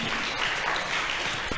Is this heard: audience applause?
yes